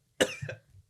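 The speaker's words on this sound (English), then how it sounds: "that's very loud coughing" One loud, close cough bursts out, with a softer throaty follow-up and then quiet, and no talking.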